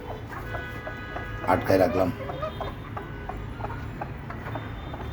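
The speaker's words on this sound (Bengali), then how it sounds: "এই যে মোরগটা দেখতেছেন, এই যে মোরগ" Desi chickens and a rooster cluck close by on a farm, with a brief louder burst of calls partway through, while someone talks over them throughout.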